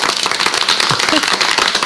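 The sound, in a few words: applause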